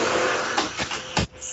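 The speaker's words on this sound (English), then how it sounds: "Hoover sound effects." A Hoover vacuum cleaner sound effect plays as a steady, loud motor roar with a few brief surges, heard alone.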